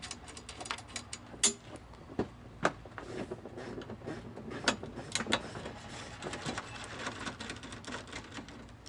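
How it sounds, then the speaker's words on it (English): Fender liner screws on an MK7 GTI being removed with a T25 Torx bit, quiet close ratcheting and clicking in irregular bursts with small metallic taps, no voices. "Right now Damon is removing the fender liner ones, which are T25 Torx bits"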